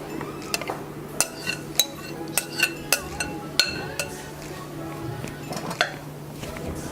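A spoon clinks against the side of a bowl while cream fruit chaat with chopped almonds and dates is stirred, a steady run of sharp taps with a quiet voice talking underneath.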